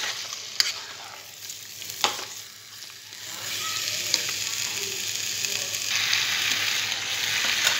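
Chicken pieces sautéed in spiced masala for chicken curry, with a steady close sizzle and sharp clicks and scrapes of stirring that build into denser, louder frying toward the end.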